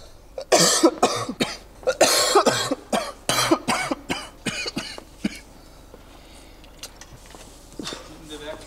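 Repeated harsh coughing fits after a hard track cycling effort, loud and close, in irregular bursts that gradually weaken and thin out into heavy breathing and a few faint coughs.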